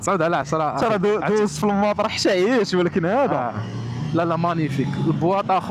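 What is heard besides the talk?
None of the usual background noises is heard.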